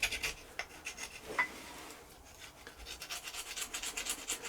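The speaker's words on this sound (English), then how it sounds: "So again, I'm just wanting to scrape the muck off." Close scraping and rubbing as dirt and muck are worked off the wedge of an old wooden Jarvis wheelwright's plane, an irregular rasping stroke pattern that quickens into steady back-and-forth scrubbing toward the end.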